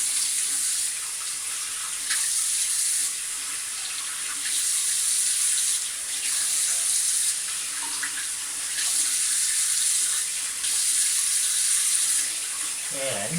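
Cold water runs from a tap into a sink for a shave, a steady close hiss broken by rhythmic splashing surges as hands scoop water to the face.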